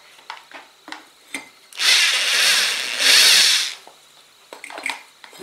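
Power drill boring a hole through a ceramic pot, pressed against a wet sponge, gives two loud sustained grinding bursts of about a second each, with softer scraping and handling knocks before and after.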